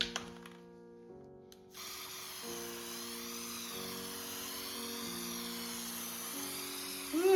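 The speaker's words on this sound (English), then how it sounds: "we're gonna spray some of this golden archival varnish on it" Golden archival varnish sprayed from an aerosol can onto soft pastel artwork in a garage, a steady hiss running continuously for several seconds after a short quiet start, with a faint tonal hum underneath.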